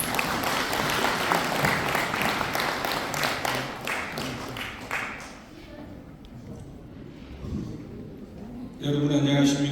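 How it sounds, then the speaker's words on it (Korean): Loud, dense applause from an indoor audience at a Korean civic association lecture event fills the first half, then thins into scattered claps and murmuring before a nearby voice begins speaking over a quiet room. "힘찬 박수 부탁드리겠습니다."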